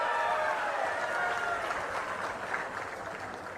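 Applause from an audience at a political speech on a delimitation bill, a dense, steady clatter of many hands clapping that holds throughout and eases slightly toward the end, with no talk over it.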